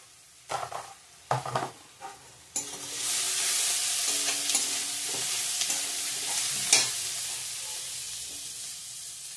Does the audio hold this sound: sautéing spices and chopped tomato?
yes